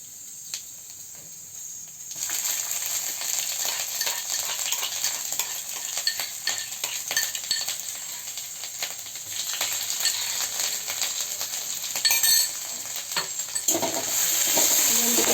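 Cumin seeds, ginger and green chillies sizzle and crackle steadily in hot oil in an Odia home kitchen, the frying quiet for two seconds and then loud and continuous, with occasional stirring scrapes and no talk.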